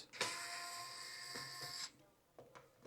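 A cordless electric screwdriver from a 40-piece household tool kit runs at its first speed setting, set to the second torque level, while backing out a screw. A steady high whir holds for about a second and a half, then stops, with two short bursts after it.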